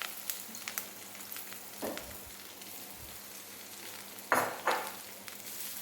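Marinated capsicum fries in oil with garlic and spices in a pan, giving a soft steady sizzle broken by a few louder scraping stirs of a spoon, with no voices.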